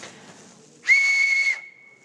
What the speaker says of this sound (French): En fait, ce sont des sifflets de la préhistoire.